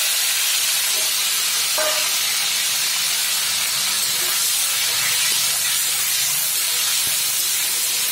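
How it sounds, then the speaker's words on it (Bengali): Potato pieces frying in hot oil in a pan make a loud, dense, continuous hissing sizzle that runs the whole time, with a few faint knocks underneath and no speech. "এবারে এই আলুটা ভেজে নেব।"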